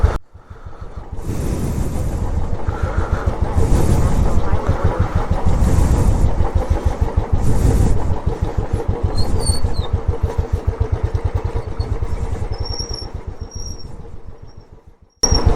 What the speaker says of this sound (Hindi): तो मैं बाइक और नीचे लेके जा रहा हूँ थोड़ा सा